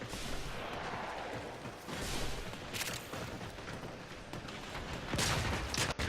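Aklex explosive pistol shots in the video game Warframe: a dense, continuous roar of gunfire and blasts with a few louder bursts near the end, and no talking.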